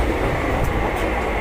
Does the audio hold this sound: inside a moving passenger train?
yes